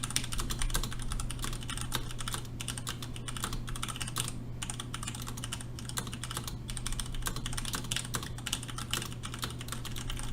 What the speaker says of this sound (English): Let's just give it a typing test.